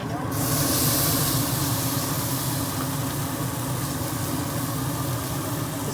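Pork pieces searing on an open grill sear plate give off a loud, steady hiss of sizzling fat that carries through the whole stretch, with a voice talking over it.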